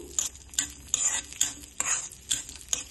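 Cashews and raisins frying lightly in a pan for mango sago pudding, with a spoon scraping and tapping the pan in a regular stirring rhythm about twice a second, close and fairly quiet over a faint sizzle.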